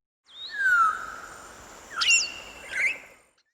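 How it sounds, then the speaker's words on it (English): An African grey parrot gives clear whistled calls, a long rising-then-falling whistle followed by two shorter bursts of sliding, chirpy notes, close and alone. "African grey parrot."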